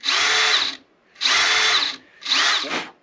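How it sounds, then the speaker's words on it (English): A power drill bores a small hole in a guitar for an inlay dot, running in three loud, even bursts of about a second each with short pauses between, close by and alone. "And then you just switch back to forward motion and drill."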